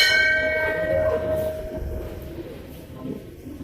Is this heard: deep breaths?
no